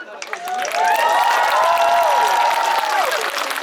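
Audience applauding and cheering at a music awards ceremony after the rock band of the year nominees are read out, a sustained loud wave of clapping and voices that swells and holds, with some speech mixed in.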